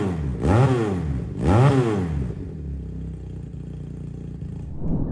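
Taro GP 350cc motorcycle engine revved twice in quick succession, each rise and fall loud and close, then settling to a rough idle with a small blip at the end; no talk.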